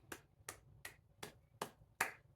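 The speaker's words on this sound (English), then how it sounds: "Let's clap for ourselves." A single person clapping their own hands in a quiet room: six sharp, separate claps spaced about every third of a second, close and fairly soft, with no talking.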